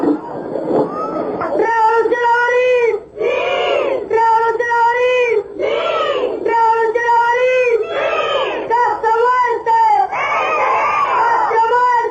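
A large crowd at a political camp rally chants and shouts in unison, loud rhythmic bursts of massed voices repeating over about twelve seconds with brief pauses between phrases.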